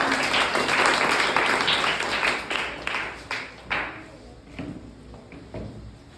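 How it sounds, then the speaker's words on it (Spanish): Church congregation applauding during a worship service, a dense burst of clapping that starts loud and thins into scattered claps toward the end. "Dale un fuerte aplauso al que vive."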